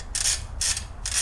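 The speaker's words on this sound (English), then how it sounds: "So I am now removing the filter. It's T40, 2 screws" Torx T40 screw on a Porsche Boxster transmission filter being loosened with a ratchet, three bursts of rapid clicking close up, alternating with short pauses.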